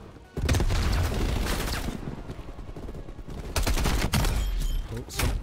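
Rapid gunfire bursts from the Call of Duty: Cold War beta in a hardpoint match, loud, dense volleys with sharp distinct shots and a brief quiet opening.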